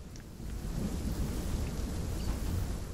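Storm rumble in Fortnite, a continuous low, rolling roar like thunder and heavy rain, loud and steady throughout with no talk.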